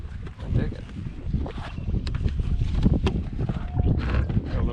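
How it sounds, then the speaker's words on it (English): Outdoor wind buffeting the microphone, a steady low rumble and roar with gusts swelling and fading across the clip, close and fairly loud, with a few faint clicks on top. "Got a little wind out there today."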